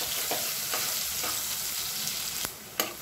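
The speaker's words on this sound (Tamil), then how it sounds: "வெங்காயம் நல்லா வதங்கட்டும்." Steady, dense sizzling of onions frying in a pan, with a few sharper clinks of stirring toward the end; no voices.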